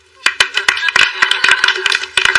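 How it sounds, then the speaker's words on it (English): A few people clap for the chef at a Thanksgiving dinner table, sharp close handclaps in quick uneven bursts that start after a short quiet moment and go on without talk. "I think we should give the chef a hand"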